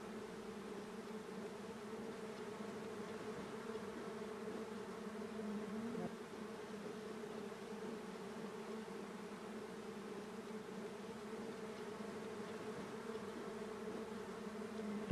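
Honey bees buzz steadily around a beehive on a summer evening, a continuous low drone of many insects at moderate distance, faint and unbroken with no voices.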